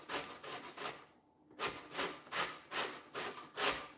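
Lemon zest is grated for holiday baking, a quiet rhythmic rasping of about six even strokes close by with a brief pause early on, and no voices.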